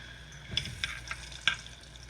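Plantains fry quietly in a pan, giving a soft sizzle with a few sharp clicks and stirring taps close by.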